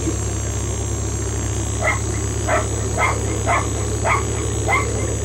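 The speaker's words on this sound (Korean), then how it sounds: "강아지가 옆에 와서 짖어대며 공을 달라고 앞발을 내민다" A puppy in a theatre staging of Beckett's play barks six times in quick, even yips. The barks are moderately close and sit over a steady low hum.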